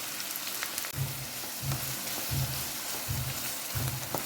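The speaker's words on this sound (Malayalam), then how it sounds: "അതിലോട്ട് നമുക്ക് ഈ സവാള ഇടാം. നന്നായിട്ട് നല്ല ബ്രൗൺ കളറിൽ ആദ്യം വറുത്തെടുക്കാം." Sliced onions frying in hot oil in a pan: a continuous bright sizzle with crackling, broken by soft low thumps at regular intervals. No talking.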